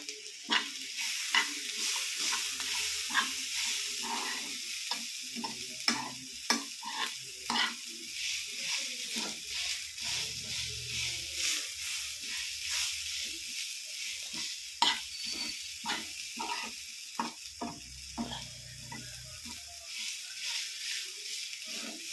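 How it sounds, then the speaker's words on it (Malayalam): Drumstick leaf and jackfruit seed thoran stirred in a pan, a continuous soft sizzle with frequent scraping and clicking strokes of a spoon at close range, no talk. "നമുക്ക് ഒന്നും കൂടെ നിറച്ചിട്ട് ഇളക്കി കൊടുക്കാം"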